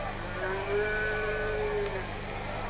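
A cow moos once, a drawn-out low call from cattle being herded along a mountain trail in the Atlas at Oukaimden, heard over a steady outdoor background hiss.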